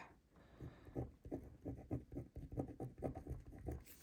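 A pen scratching across the paper of a Happy Planner in quick, rhythmic strokes, close and quiet, with short pauses between letters and no talking.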